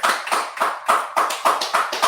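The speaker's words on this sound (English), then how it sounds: "give a round of applause here." A small group claps in a rhythmic, evenly spaced pattern, about eight distinct hand claps close by, at the end of a Bible lesson on the tribes of Simeon and Levi.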